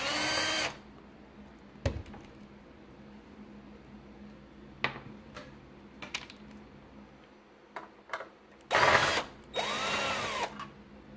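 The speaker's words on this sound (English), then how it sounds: "Now let's take out the screws off" A power screwdriver backs out the rear cover screws of a Panasonic DMP-BD80 Blu-ray player on a workbench. Short high-pitched whirring bursts start and stop, separated by faint ticks and quiet handling.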